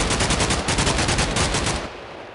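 An RPD machine gun fires in a modded video game, a loud rapid burst of shots in a steady stuttering rhythm that lasts nearly two seconds and then cuts off.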